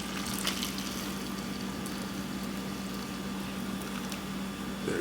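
A warm sugar and salt brine mixture being poured steadily, a continuous close liquid wash that holds evenly for several seconds.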